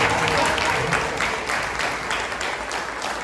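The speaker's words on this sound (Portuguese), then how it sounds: "Uma salva de palmas para Jesus." Church congregation clapping together at the close of an anniversary worship service, a sustained dense wash of applause with rhythmic pulses, loud and steady throughout.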